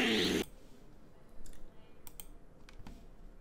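Keys on a Razer gaming keyboard clicking during in-game movement: a loud burst at the start, then scattered soft taps and sharp clicks, close and without talk.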